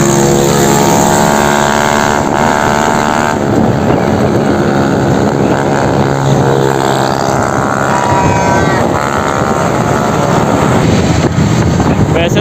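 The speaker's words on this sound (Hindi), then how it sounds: "पीछे से एक मोटरसाइकिल वाला आ रहा है जिसने साइलेंसर उतारा हुआ है" A loud, unmuffled roar from a motorcycle with its silencer removed fills the street during Independence Day celebrations on 14 August in Islamabad. The engine drones steadily under heavy wind buffeting on the microphone, with a voice faintly mixed in.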